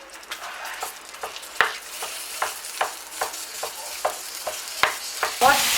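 Olive oil and mince sizzle in a pan while a utensil chops through the meat, giving regular sharp scraping taps about every half second over a steady crackling fry.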